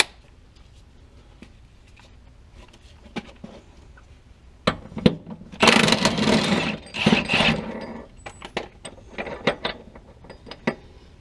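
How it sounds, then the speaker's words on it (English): Ratchet wrench working a 21 mm shock bolt loose on a 2005 Pontiac GTO suspension, heard as a run of quick clicking ratchet strokes: sparse clicks first, then a dense, louder burst of rapid ratcheting in the middle, trailing off into scattered clicks. "Now I'm going to go ahead and take this shock bolt out, which is a 21 millimeter"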